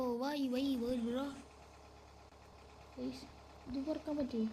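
A vehicle engine idles in a Roblox prison escape obby game as a low, steady hum that runs the whole time, faint beneath a person talking at the start and end.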